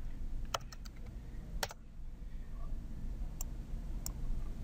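A few sparse keystrokes on a computer keyboard click against a steady low background hum, with a short cluster near the start and isolated taps later.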